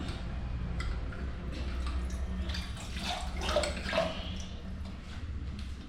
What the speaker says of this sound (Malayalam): ഇതിലോട്ട് ലേശം വെള്ളം ഒഴിച്ചു കൊടുക്കാം